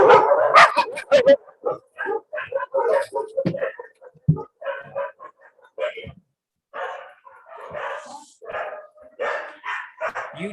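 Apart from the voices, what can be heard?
dogs barking outdoors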